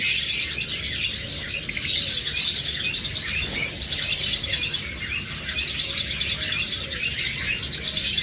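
Pet lovebirds, budgerigars and cockatiels in a bird shop chirp and tweet in a dense, continuous chorus, steady and fairly loud with no voices over it.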